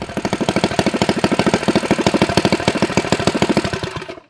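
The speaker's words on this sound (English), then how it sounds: "Well, the engine runs. The engine really runs." A homemade twin-engine go-kart idles loud and close with a fast, steady, pulsing chug that runs alone for about four seconds, then cuts off abruptly.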